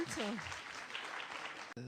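An audience applauds Professor Didier Raoult, brief steady clapping that continues after a speaking voice at the start.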